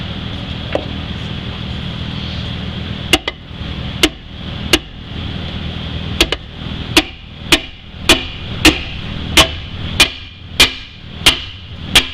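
A hammer whacks on a Porsche 944 torque tube, sharp knocks starting sparse and settling into a regular beat about every half second, close, over a steady background hum.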